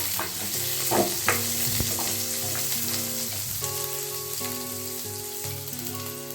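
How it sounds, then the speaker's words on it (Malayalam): Onion and green chili sauté in a pan with an ongoing sizzle and stirring scrapes, with a few clinks near the start and a steady tonal hum beneath the frying. "പിന്നെ ഇതിലേക്ക് സവാള, പച്ചമുളക് ചേർത്ത് നന്നായിട്ട് വഴറ്റാം."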